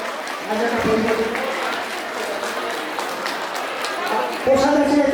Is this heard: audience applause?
yes